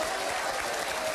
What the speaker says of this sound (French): Je vous demande d'applaudir Dominique Farrugia.